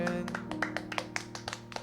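A church congregation claps together during Sunday worship, sharp hand claps landing in a fairly steady rhythm over a sustained musical tone, close and moderately loud.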